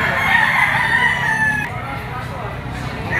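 A Kelso gamefowl rooster, yellow-legged and two years old, crows loudly and close in one long call that cuts off midway, with faint background voices after.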